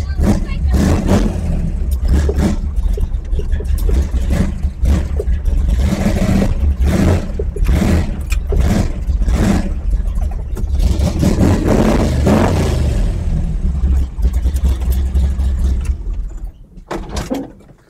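A 1955 Chevy Nomad engine runs cold with a loud, rough, uneven rumble close by, surging and dipping before cutting off near the end, with a person speaking over it.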